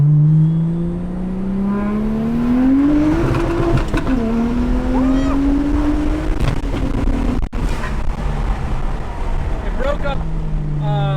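A single-turbo BMW E92 335i engine pulls hard at full throttle, rising steadily in pitch through the gears, loud and close, with a brief break near the top and a voice speaking over it.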